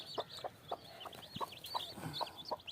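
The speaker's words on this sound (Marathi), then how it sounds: "इथं पाहू शकता या कोंबडीनं पिल्लं काढली मित्रांनो" A free-range desi hen clucks softly and steadily beside her newly hatched chicks, whose high thin peeps chirp throughout at low volume.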